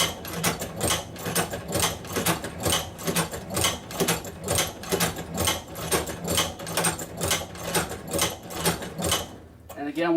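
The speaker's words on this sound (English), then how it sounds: "And then again, we'll continue sewing." Outlaw manual leather sewing machine working through leather, a fast steady run of rhythmic mechanical clacks as the needle drives each stitch, close and loud, with a brief pause near the end.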